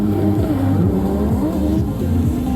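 An Infiniti G37 drift car with stock power competing at a drift event, its engine revving loudly with rising and falling pitch sweeps as gears shift, continuous and close, no speech.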